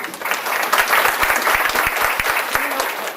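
A steady round of applause for Megan Ortiz fills a room at a Christmas end-of-year business celebration, with dense clapping from a sizeable crowd throughout.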